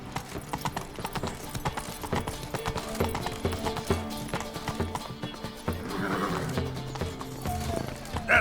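Geralt's horse Roach gallops in The Witcher 3, hooves clip-clopping in a steady rapid rhythm with a whinny, layered over game music and ambience.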